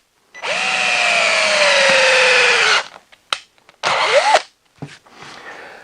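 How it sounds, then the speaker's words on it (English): A drill boring a 3/8 inch bit about an inch deep into oak for a bowl blank, a loud sustained whine with a falling pitch for over two seconds, then short bursts and a second brief run as the bit is pulled and re-entered. "I'm going to drill roughly a 1 inch deep hole here"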